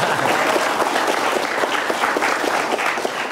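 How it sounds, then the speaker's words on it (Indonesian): Studio audience on a regional TV variety show clapping together, a loud, steady stream of applause with distinct claps rising through it, no voices on top. "Tepuk tangan."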